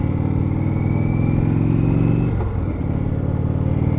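A 2019 Indian Chieftain Dark Horse motorcycle on the move, with a steady, close low engine drone that dips briefly partway through before settling back into its even throb.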